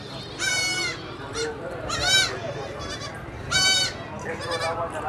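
Several loud bleats from high-milking goats with kids at a goat market in Haripur come in separate bursts across the clip, wavering and nasal, over a low background rumble.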